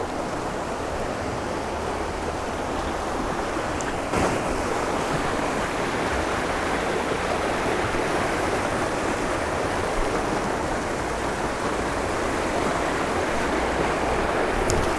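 A rushing mountain stream in Kagoshima roars without pause, a dense, steady wash of churning water that stays loud and close throughout, with no voices.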